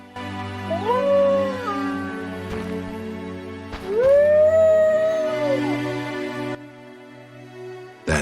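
A dog whimpers and yips in two drawn-out, rising whining cries, each with a short yelp, close and fairly loud, then goes quiet before a brief final sound.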